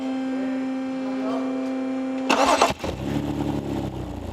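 A BMW F10 528i with a fully drained battery cranks and starts after a steady electrical hum, giving a short loud burst before settling into a close idle.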